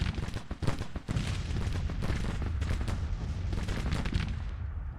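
Rifle volleys crack in a Grand Tactician: The Civil War battle, with Enfield rifles among them: dense, overlapping gunfire with sharp individual shots early, then a continuous rolling fusillade, loud and sustained without speech.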